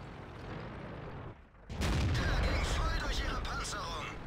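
A tank cannon in World of Tanks booms with a sudden loud blast partway through, after a short lull, then rumbles on in a dense battle din of engine and gunfire.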